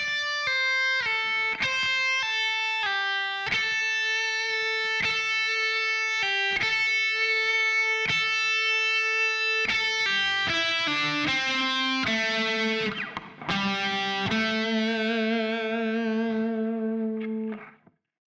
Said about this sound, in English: you'll play a one-string sequence moving through shapes 2, 1, and 5